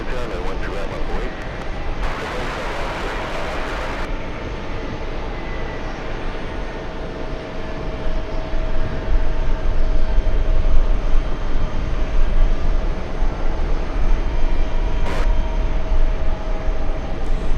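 An airliner roars down the runway on takeoff at JFK airport, a steady far jet rumble that swells louder and denser in the second half, with someone talking over it early on.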